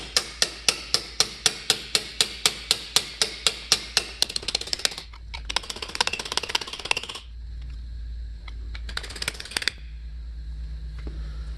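Rapid, regular metallic hammer strikes on aluminum sheet ring out close by, about four per second, then break into irregular clusters of taps with pauses between them.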